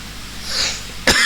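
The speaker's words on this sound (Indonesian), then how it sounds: "batuk mulai datang" One sharp, close cough bursts out near the end after a moment of quiet breathing.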